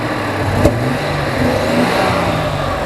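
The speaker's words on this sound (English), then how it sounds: "the throttle linkage is right here, so you can blip the throttle here" A Nissan Fairlady Z engine, not yet warmed up, idles with a low, steady rumble, with a brief sharp backfire pop from a throttle blip near the start, close by.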